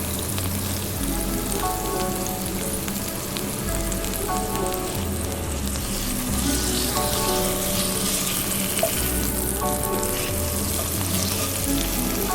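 Bacon sizzles and spits in a pan in a greenhouse beneath a range hood, a continuous dense crackle with steady loudness and a low background hum, no voices.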